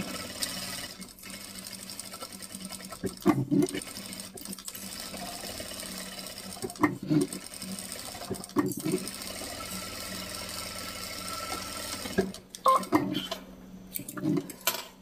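A sewing machine runs a seam along the edge of a fabric owl-themed phone holder, humming steadily for long stretches, with small mechanical clicks and knocks and occasional short stops.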